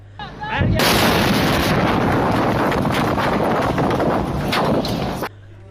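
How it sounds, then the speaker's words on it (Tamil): Massive explosion at Shahid Rajaee port in Iran, a container terminal fire: after a brief lead-in, a huge sustained roaring blast floods the recording for several seconds, loud and distorted, then cuts off abruptly. "தீ பரவியமை மற்றும் பாரிய வெடிப்பு ஏற்படும் காட்சிகளை அங்கிருந்த மக்கள் கைத்தொலைபேசிகளில் பதிவு செய்துள்ளனர்"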